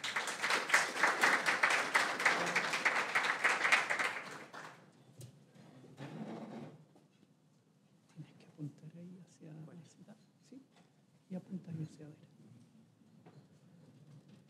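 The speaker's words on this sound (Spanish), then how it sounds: "Lo recibimos con un caluroso aplauso." Audience applause for a speaker at a Chilean green hydrogen business event, a dense, loud burst of many hands clapping for about four seconds before fading into quieter room noise and scattered murmurs.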